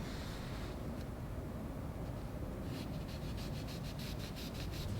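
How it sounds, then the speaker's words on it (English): A cut-down natural bristle brush scrubs stripping gel into tenacious old varnish, making a continuous close rasping rub with a faster rhythmic back-and-forth toward the end. "I'm using a worn down or cut down natural bristle brush to agitate the surface layer"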